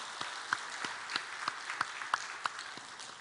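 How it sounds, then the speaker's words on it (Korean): A church congregation gives a short round of applause during Sunday worship, a moderate crowd clapping with a few sharper individual claps standing out in a regular rhythm. "박수로 영광 돌리겠습니다."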